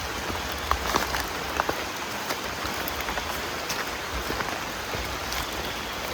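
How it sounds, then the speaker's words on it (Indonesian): Steady rain falls and patters on surfaces on a wet uphill trail toward a cave during a 100 km ultra trail relay race, a dense even hiss with scattered droplet ticks throughout and no talking. "Masih hujan terus."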